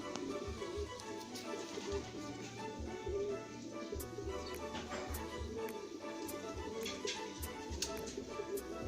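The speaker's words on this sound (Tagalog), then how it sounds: "Yung ibon na to brinid namin para lang sa stock bird." Low, repeated cooing from a racing pigeon kept as breeding stock in a loft, soft, rhythmic coos pulsing close by over a quiet background with faint clicks.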